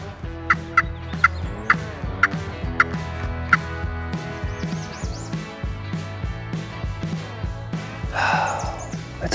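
Wild turkeys gobbling during a Wisconsin spring hunt, with repeated rattling gobbles that ring out loudly and close, one after another, and a sharper chattering burst near the end. No voices are heard.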